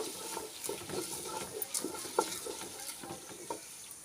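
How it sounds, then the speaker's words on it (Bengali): Rice for beef trotter biryani is fried and stirred in a pot, with quiet, close scraping and rustling stir strokes over a faint sizzle, repeating in an uneven rhythm. "এবার চালটা একটু কষিয়ে নেব ভালো করে"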